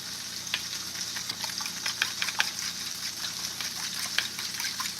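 Scrambled eggs being stirred in a hot pan give a soft steady sizzle with irregular scraping and stirring clicks, heard alone and fairly quiet.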